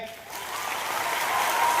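An audience claps in support, the applause swelling steadily from quiet to fuller over a couple of seconds, with faint voices underneath.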